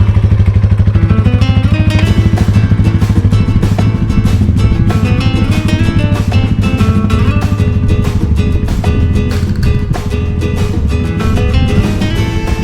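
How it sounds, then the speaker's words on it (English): Motorcycle engine putting along at low speed on a rider's first ride, a steady loud low rumble with regular firing pulses that holds throughout without talk. "let the clutch out and just putt along and just make a circle"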